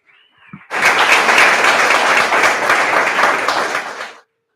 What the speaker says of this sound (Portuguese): Aplaudamos o Senhor.